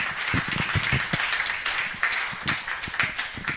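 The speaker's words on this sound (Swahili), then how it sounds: "Nipigie makofi kama umefurahia, sababu nimesema vizuri." A congregation at a lunch-hour deliverance church service claps steadily for several seconds, many hands producing a dense, continuous round of applause without speech.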